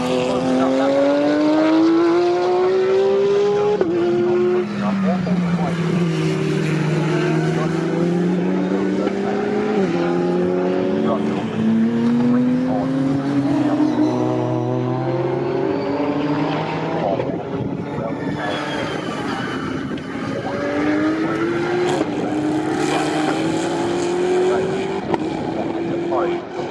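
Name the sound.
GT race cars driving down the straight at Snetterton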